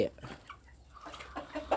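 Thai backyard chickens kept as breeding stock cluck in short, soft bursts against a noisy farmyard background, with no one speaking.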